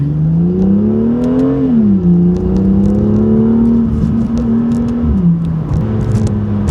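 A 2018 BMW M2 with M Performance exhaust roars and burbles as the engine revs rise and fall through a downshift into first gear, loud and close, with crackles on top; windows up.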